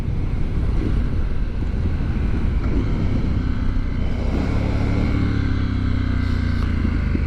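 A 2023 Triumph Scrambler 900 motorcycle on a test ride, its engine rumbling steadily beneath heavy, continuous wind buffeting on the microphone, loud and unbroken throughout.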